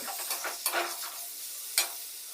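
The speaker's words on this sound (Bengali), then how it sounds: "তারপরে সিদ্ধ করা ওলগুলো সব দিয়ে দিব, আর এটা ভালো করে মশলার সাথে মাখিয়ে নেব।" Boiled elephant foot yam fries with spices in a pan, giving a bright close sizzle and hiss with a few quick scraping stirs.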